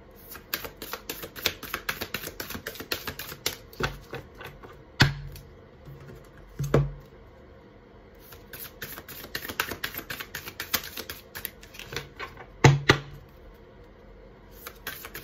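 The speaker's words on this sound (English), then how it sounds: "It's too much for me to shuffle. I can't hold it all in my hand, so I have to split it" Tarot deck shuffled in two halves, a dense run of crisp papery card riffles and flicks up close, with a few louder snaps and pauses between bursts, no talking.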